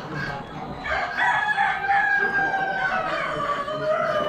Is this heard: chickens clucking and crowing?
yes